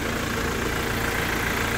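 A 2020 Toyota Land Cruiser Prado idles at a steady, even hum, a constant low mechanical drone with broadband noise and no change in level, heard alone without any talking.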